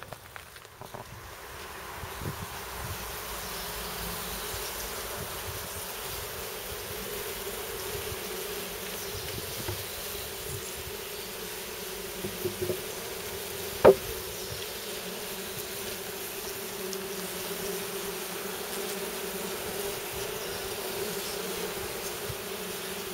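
Honeybees buzz in a steady, dense drone as a beehive is opened outdoors, with light rustling and one brief knock partway through, and no voices.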